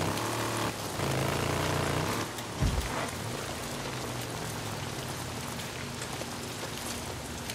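Steady rainfall in the video game Days Gone hisses throughout, with a low droning hum and a brief thud early on, no talking.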